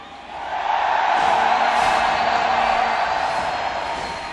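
A large esports arena crowd in Anaheim at a League of Legends match swells into loud, sustained cheering and roaring that holds for several seconds before easing slightly.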